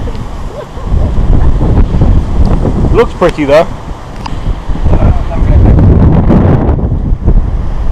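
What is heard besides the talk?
strong wind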